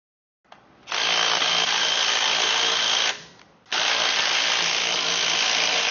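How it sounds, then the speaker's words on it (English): A power tool loosens a bolt during engine removal from a 1954 Ford Skyliner: two long, loud whirring bursts near the mic with a short pause between them, and no talk. "let me just loosen that bolt and take it out then"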